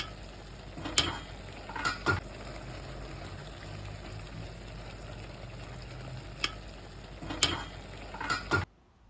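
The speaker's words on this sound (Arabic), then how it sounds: "هبدا بقى ان انا اقلبها كويس قوي عشان اضمن ان هي دخلت في اللحمه كلها" Minced meat with tomato sauce being stirred in a pan for a light, oil-free moussaka: a steady low sizzle with several scraping, clattering spoon strokes against the pan, close and fairly quiet, no talking.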